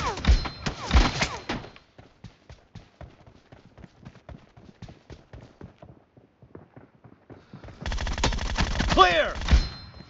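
PUBG Mobile team deathmatch gunfire crackles as a rapid string of sharp shots, with louder game sounds and voice callouts at the start and end.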